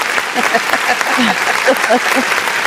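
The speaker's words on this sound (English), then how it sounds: "a round of applause" A studio audience on a morning talk show claps steadily while voices talk over the applause, the clapping moderately loud and close throughout the short stretch.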